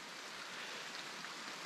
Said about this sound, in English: It's truly raining.